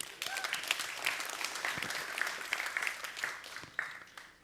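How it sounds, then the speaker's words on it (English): Audience applause at a business talk on inbound sales pipelines, a dense patter of clapping with a few sharper claps and whistles, holding steady before tapering off. "Let's get an applause."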